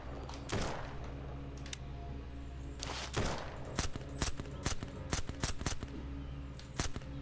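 Gunfire in SurrounDead, aimed at a vehicle. Sharp shots come in scattered bursts and singles, moderately close, over a low steady background hum.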